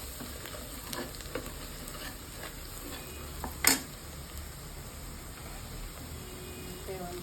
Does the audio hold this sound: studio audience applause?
no